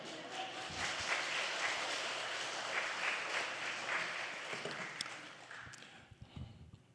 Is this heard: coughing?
no